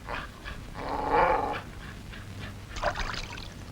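A dog growls and snarls in a low, rough rumble, rising to a louder stretch midway and again near the end, fairly close with a faint background hiss and no speech.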